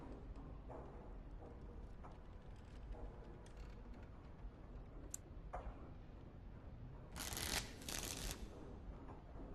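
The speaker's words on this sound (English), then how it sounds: "Before we start, the cards must be shuffled." A deck of cards is shuffled in Dragon Age: Origins, two quick riffling bursts near the end after a stretch of quiet ambience with faint ticks and clicks.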